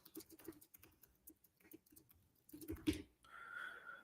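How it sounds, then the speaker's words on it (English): Computer keyboard keys tapped in quick bursts, a close patter of clicks with short pauses, ending in a louder clack and a faint hum. "Let me type this in for you."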